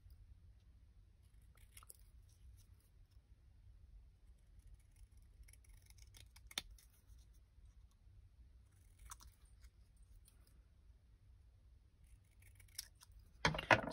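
Scissors snipping a handmade craft tag, a few faint, sparse cuts spread across a quiet room before a louder, closer flurry of snipping right at the end.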